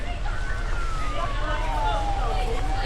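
A fire truck siren wails as the engine arrives, its rising and falling tone sweeping clearly over a constant low rumble of street and traffic noise outdoors.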